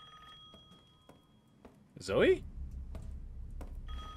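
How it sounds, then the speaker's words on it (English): Telephone rings in Resident Evil 8, a short electronic ring burst standing out mid-clip amid game sounds, with someone talking briefly over it. "Phone call."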